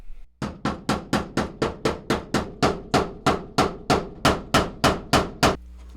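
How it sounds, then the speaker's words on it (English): A hammer pounds a dent in a steel body panel on a B-body Dodge Charger. There are about fifteen sharp, ringing metal blows in a steady, even rhythm, loud and close, with no talking. "I'll hammer on either side and see if that pulls it out"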